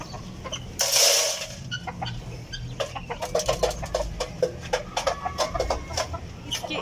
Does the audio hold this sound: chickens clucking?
yes